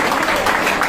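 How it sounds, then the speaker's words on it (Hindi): A school audience at a gurukul Teachers' Day gathering gives a brief burst of clapping for a teacher, heard loud and close for under a second. "तो एक बार ताली बजाओ इनके लिए।"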